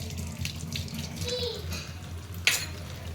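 Water running from a tap while a child's shirt is washed, a soft continuous splashing flow at moderate distance with a sharp clatter near the end.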